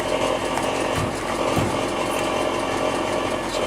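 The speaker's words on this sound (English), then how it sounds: "Down below is rattling" Old car Cledus idling nearby with a steady, dense metallic rattle coming from underneath, continuous and fairly loud with a couple of brief knocks, no voices.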